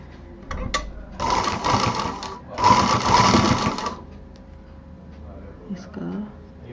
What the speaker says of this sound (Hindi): और इसको भी हम यहाँ पे रख के सिल देते हैं